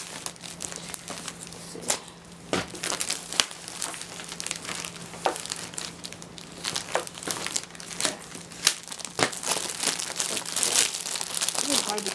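Grip tape being peeled and torn off a surface, giving repeated crinkling, tearing crackles in uneven bursts at close range, with a person speaking briefly over it.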